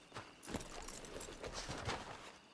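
Horse hooves clip-clop in a western roleplay video game, a steady run of soft, fairly faint hoofbeats over a muffled background.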